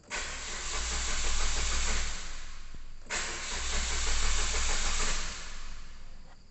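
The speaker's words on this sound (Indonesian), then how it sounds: "starter mobil menyala tetapi mesin tidak bisa hidup" A Suzuki Ertiga's starter motor cranks in two sustained, loud bursts of about three seconds each, heard up close, while the engine fails to catch and start. No one speaks.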